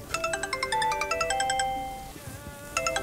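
A mobile phone ringtone plays a bright repeating melodic chime in short bursts, pausing briefly before starting again, fairly loud and close with no speech over it.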